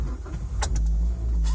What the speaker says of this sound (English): Shall we start the car?